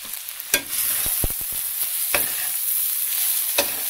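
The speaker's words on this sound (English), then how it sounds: "stir that around" Nacho cheese rice being stirred in a pot: a steady soft scraping and sizzle runs throughout, with a few sharper spoon clinks against the pot standing out near the start and middle.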